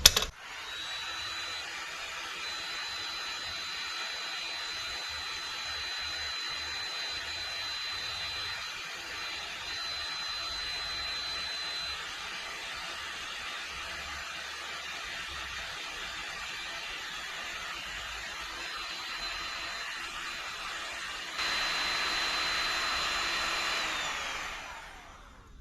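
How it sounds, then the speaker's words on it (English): A heat gun warms the intake manifold spring on a 1952 Willys Overland 4x4 truck, giving a steady, loud blowing hiss that runs nearly unbroken and swells slightly near the end before cutting off. "So I'm going to put a heat gun on this, and we're going to heat up this spring"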